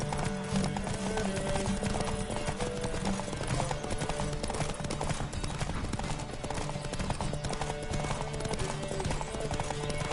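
Rapid, steady hoofbeats of a galloping horse in a video game pound throughout, dense and continuous, with a busy rushing background and no clear talking.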